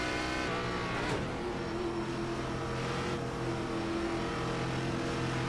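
A legacy ARCA race car in iRacing pulls away from a standing start at the Milwaukee Mile, its engine droning steadily and loudly throughout with the layered hum of a large field of other cars around it.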